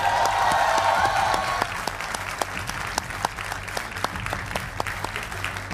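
Studio audience on a Hindi TV debate show clapping together, a thick steady roar of many hands at first that thins into scattered, rhythmic individual claps toward the end.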